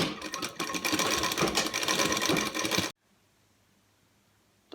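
A sewing machine stitches the folded edge of a small dhoti with a fast, steady whirring hum for about three seconds, close and clear, then stops abruptly into near silence.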